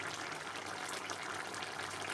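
Water pours into a cooking pot as a continuous faint hissing gush, steady and close, with no voices.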